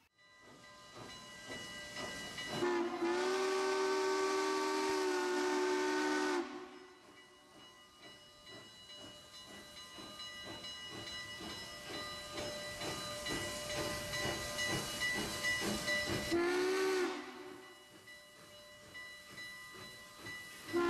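A steam locomotive whistle blows twice, each long sustained blast over steady hissing steam and rhythmic chuffing, loud and close.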